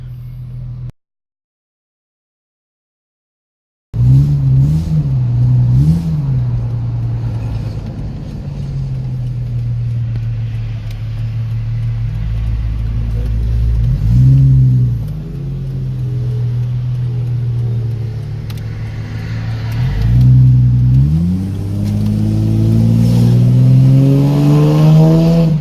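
A 1995 Ford Mustang SN95 accelerates hard through pulls, a loud close engine drone rising in pitch with several revving surges and gear changes after a brief silence.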